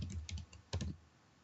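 A short burst of typing on a computer keyboard, several quick soft key clicks in two small clusters, faint and close with no voice over them.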